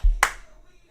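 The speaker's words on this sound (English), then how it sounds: "If you can hear me, clap once." One sharp hand clap lands just after a low thump, then the room falls nearly silent.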